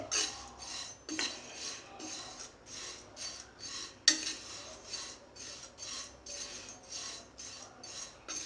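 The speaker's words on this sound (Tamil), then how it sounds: "ஏற்கனவே இது காஞ்சது தான், இந்த இதில் பாத்திரத்தில் போட்டு வறுக்கவும்" Dry-roasting flattened rice (aval) in a metal pan, with a rhythmic scrape-and-rustle of a spatula stirring the grains about twice a second, close and fairly soft.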